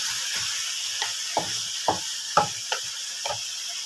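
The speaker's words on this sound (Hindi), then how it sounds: "5 मिनट के लिए हम इन सब चीज़ों को अच्छी तरह से फ्राई कर लेते हैं।" Mutton karahi with green chillies fries in a pan under a steady sizzling hiss, broken by irregular soft scrapes and taps of a stirring spoon; no speech.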